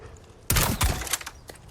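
A boltcaster fires in the video game Resident Evil 4 Remake, one sudden sharp loud release followed by a quick second thump and fading rattles.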